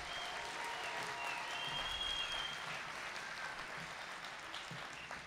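Sustained applause from a commencement audience at a career and technical education graduation ceremony, steady clapping from a large crowd at moderate level for several seconds.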